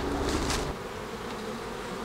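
Honeybees in an open hive box during a spring inspection at a Quebec apiary give off a dense, continuous close-up buzzing hum, louder in the first moments and then holding steady with no talk.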